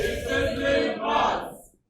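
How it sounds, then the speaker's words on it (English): An audience at a church parish event claps and cheers loudly in two rising swells of crowd noise, then cuts off abruptly. "Shall we give a big clap of him?"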